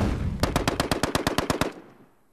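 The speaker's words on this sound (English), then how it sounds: "The Browning automatic rifle, model M1918A2, essentially a light machine gun providing fire support in the squad." Browning M1918A2 automatic rifle firing a single burst of about eleven sharp, evenly spaced shots in quick rhythm, then a short fading echo, heard alone with no talking.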